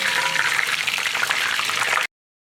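Fish deep frying in hot oil as part of a sweet and sour pineapple fish dish, giving a steady, loud crackling sizzle that cuts off abruptly.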